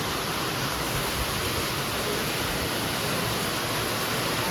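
Heavy rain pours down in a dense, unbroken hiss that stays loud and even throughout, with no voices.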